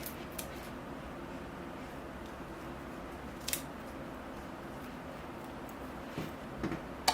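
Scissors trim hibiscus roots while a bonsai is repotted: a few soft, sharp snips and clicks stand out against a low, steady room hum, with no talk.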